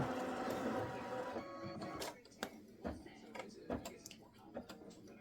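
A home embroidery machine runs a placement stitch for batting, giving a steady mechanical whir for the first two seconds. After that come scattered clicks and knocks under a quieter background, and faint talk may sit beneath it.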